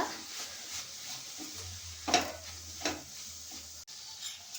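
Green chickpea leaf curry seasoned with salt and chilli powder being stirred in a pan, a faint low sizzle with a few soft spatula scrapes and taps, quiet and close.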